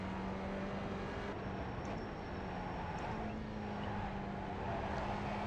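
Spec Racer Ford race car engine in the iRacing sim on the New Hampshire road course, a steady, loud drone holding a fairly constant pitch throughout with no talk.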